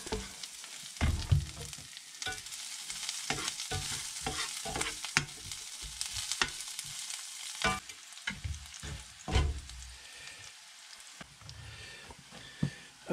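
Garlic and onions fry in a cast iron skillet with a soft crackling sizzle, broken by repeated scraping and stirring strokes, all close and fairly quiet.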